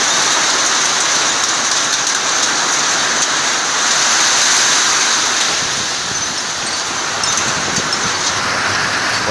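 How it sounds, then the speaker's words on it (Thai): Heavy rain from a summer storm pours down outside a house in Sakon Nakhon, Thailand, a dense, steady roar of falling water that swells slightly midway and continues without a break. "ฝนตกหนักมากครับ"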